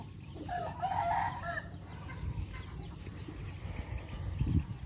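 Roosters crow and chickens cluck in an evening farmyard, a strong crow rising early on over steady low clucking and bird chatter, with no voices present.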